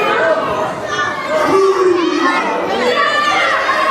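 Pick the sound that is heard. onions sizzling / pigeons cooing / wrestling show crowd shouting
wrestling show crowd shouting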